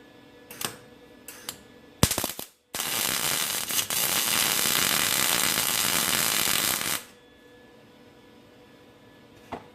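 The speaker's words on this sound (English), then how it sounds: "So I'm going to weld one right here and then one right there." Spot welds on a 1968-72 A-body rear quarter panel: a few sharp clicks, then a loud, steady crackling buzz of welding lasting several seconds before cutting off abruptly, followed by a quiet shop.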